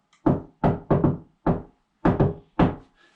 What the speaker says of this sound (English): he'd wait for the secret knock